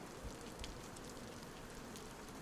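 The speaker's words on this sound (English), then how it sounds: "You don't really want to get caught out in the rain too much." Steady rain falling in the survival game DayZ, a soft continuous hiss of drops with a few faint louder patters, no voices.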